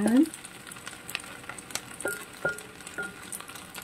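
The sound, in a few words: yakisoba noodles with spam and vegetables frying in pan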